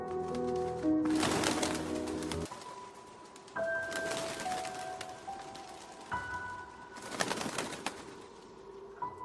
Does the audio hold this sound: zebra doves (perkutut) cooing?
yes